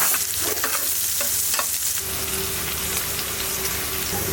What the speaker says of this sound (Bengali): এবার ভুনা করে নিব তেলের মধ্যে পেঁয়াজ